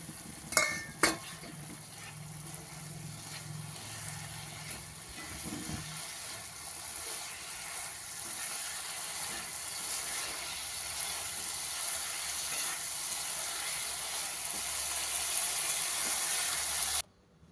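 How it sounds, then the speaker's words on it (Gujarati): Fried Manchurian balls are stirred into sauce in a home-kitchen pan, giving a steady sizzle and scraping stir that runs continuously, with a couple of sharp knocks near the start. "હવે આપણે જે મંચુરિયન બોલ્સ ફ્રાય કરીને તૈયાર કર્યા છે આમાં એડ કરી દઈશું."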